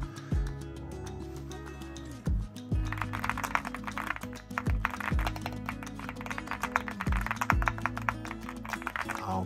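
Rapid typing clatters steadily up close on a full-aluminum Leobog Hi75 custom mechanical keyboard with side-printed keycaps, soft mechanical key clicks, while music with a repeating beat plays underneath.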